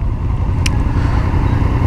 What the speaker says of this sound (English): the Harley brothers are getting ready, they are revving up their engines